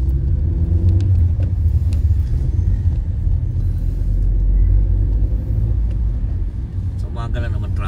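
Morning traffic in Manchester rumbles with a loud, steady low drone of idling and creeping car engines at a stop, continuous and close throughout.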